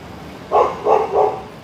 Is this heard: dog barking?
yes